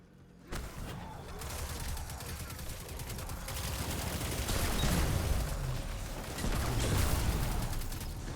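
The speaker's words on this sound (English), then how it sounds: "I love how popping shields gives a minor small explosion." Video game firefight where shields pop with small explosions, a dense crackle of rapid gunfire and mechanical clatter that swells and stays loud throughout, with no talking.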